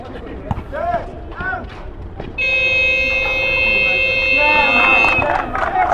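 A basketball game buzzer blares a steady, sustained tone for about three seconds, heard over crowd noise and the talk of a commentator.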